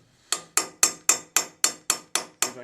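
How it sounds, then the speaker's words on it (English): A socket being hammered into a paint-clogged Allen bolt, nine sharp metallic taps in a steady, even rhythm, each ringing briefly, close and clear with no talking. "So I'm going to try to kind of tap in the socket."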